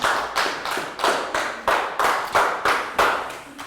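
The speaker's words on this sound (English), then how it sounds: "Big round of applause for Pangpon." A small classroom group claps for a student in a Year 3 lesson, about a dozen brisk, evenly spaced bursts of hand claps, close and clear with no talking.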